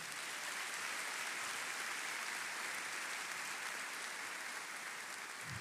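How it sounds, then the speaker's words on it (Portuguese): A church congregation applauds in a steady, even wash of clapping that sounds somewhat distant and soft, with no break throughout. "Você pode aplaudir a Jesus?"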